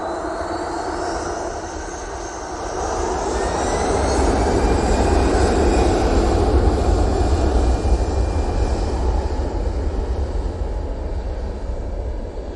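A Eurowings jet departing Manchester Airport builds from a moderate rumble into a loud, sustained engine roar with a high turbine whine on top, staying strong and close for most of the stretch.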